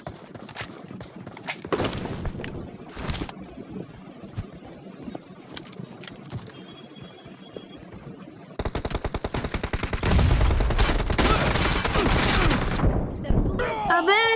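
Gunfire in the PUBG video game, including M24 sniper rifle shots, with bursts of fire and heavy loud shooting building toward the end, mixed with game sounds and occasional voice chat.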